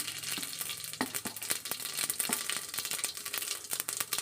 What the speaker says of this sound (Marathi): त्याच्यासोबत थोडेसे जिरे टाकतोय जिऱ्यासोबत थोडेसे शहाजिरे टाकतोय